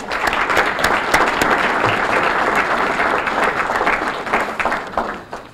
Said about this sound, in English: let's give our members and sponsors a big round of applause today